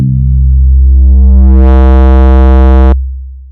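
A synthesizer note starts as a plain pluck, then grows brighter as an envelope pushes the distortion drive on oscillator A, holding loud and buzzy before cutting off abruptly.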